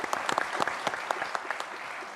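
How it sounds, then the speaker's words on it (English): Audience members clap for panelists at the end of a smart-city, mobility and electrification panel, producing a short burst of crisp, scattered claps from a modest-sized crowd, heard alone without talk. "Give them a round of applause."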